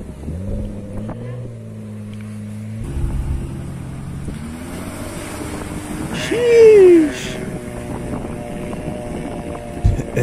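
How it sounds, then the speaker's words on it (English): A motor engine hums and strains, pitch rising and falling as it revs, with wind buffeting the microphone and brief voices in the background. "that engine's struggling though"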